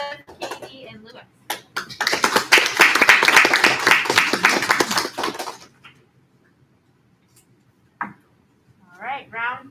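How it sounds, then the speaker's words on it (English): Applause and clapping for the contestants at an elementary school spelling bee, a burst of many hands lasting several seconds before fading, followed by brief talk. "Let's give a round of applause to Eliana, Grace, Joseph, Katie, and Lewis"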